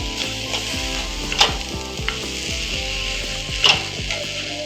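Chopped tomato fries in a pan for Tirunelveli-style okra pachadi, a steady close sizzle with a few sharp crackles and spoon clinks.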